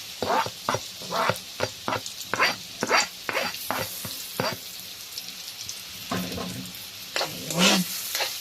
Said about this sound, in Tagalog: pwede na natin ilagay yung ating bawang at saka yung ating sibuyas